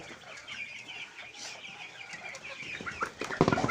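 Chickens cluck and call inside a small coop as insects are put down for them, a busy overlapping flock close by with a louder burst of clucking toward the end.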